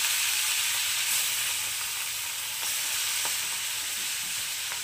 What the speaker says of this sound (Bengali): এবার মাছগুলোকে আমি খুব বেশি ভাজবো না, একদম হালকা ভেজে নেব